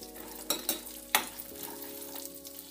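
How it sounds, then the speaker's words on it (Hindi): Seeds, pistachios and other date laddu ingredients frying in a pan, with a soft sizzle under a few sharp scraping stirs of a spoon, close and fairly quiet. "इन सबको अच्छे से फ्राई कर लेना है।"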